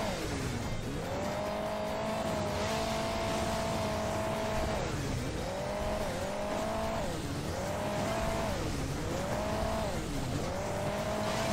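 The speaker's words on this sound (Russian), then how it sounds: "Кто-то опять там нитро врубает." Game engine drone from Hill Climb Racing 2 as a rally car runs with nitro boost, a steady whining tone that repeatedly climbs and then dips over about ten seconds, loud and continuous, with no talk over it.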